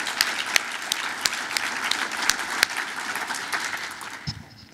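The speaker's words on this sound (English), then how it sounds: "Please, everyone, give Jackie an applause." Audience applause for the emcee at the Northglenn 2015 Business Appreciation Breakfast, a steady wash of many hands clapping with a few sharper claps standing out, fading near the end.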